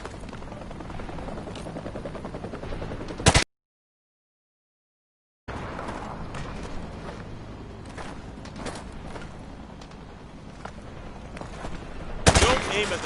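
Hip-fired gunfire in Modern Warfare 2 Remastered: continuous rattling automatic fire over a loud helicopter-like drone, broken by a two-second silent gap, with sharp bursts flaring near the end.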